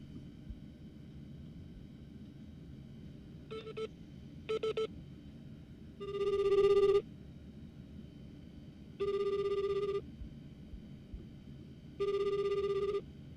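Telephone call being placed: a few short dialing beeps, then three long ringback tones with even pauses between, clear over a low steady hum and no talk.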